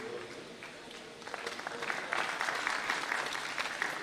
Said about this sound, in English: let's put hands together as the chairman acknowledges chairs for us.